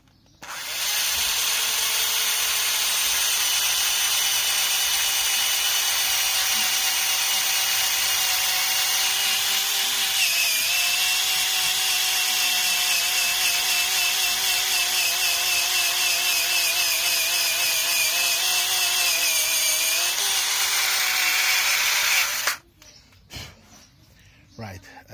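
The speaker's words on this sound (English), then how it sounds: "you just insert the drill into the position where the cut should be" A cordless drill bores through wood to cut it, giving a close, steady high whine for about twenty seconds whose pitch sags slightly under load before it stops abruptly.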